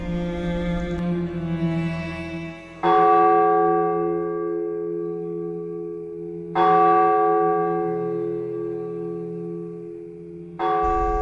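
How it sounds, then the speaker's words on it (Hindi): A clock tower bell strikes on a cold December night, each deep, resonant toll ringing out loud and decaying slowly before the next; three strikes about four seconds apart, alone without voices. "घंटा घर ने गनूदगी में 12 बजाए।"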